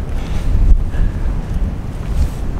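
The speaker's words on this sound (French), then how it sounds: "Commencez à avoir de plus en plus de vent. Je suis sur une crête" Strong wind sweeps across a mountain ridge in the Queyras at a bivouac, buffeting the microphone with a loud, continuous, rumbling roar that swells and eases in gusts. It plays alone, with no voices.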